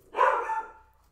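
A puppy lets out a single short bark, fairly close and clear, fading quickly into quiet.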